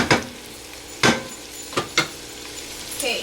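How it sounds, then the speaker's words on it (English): A spoon stirs goat meat with onions and ginger garlic paste in a pot for a curry, making a few sharp scrapes and clinks against the pot over a soft sizzle. "we gotta mix that in with the onions and the ginger garlic paste"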